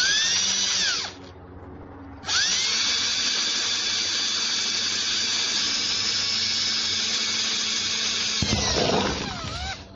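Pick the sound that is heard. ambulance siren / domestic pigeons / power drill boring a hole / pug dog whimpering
power drill boring a hole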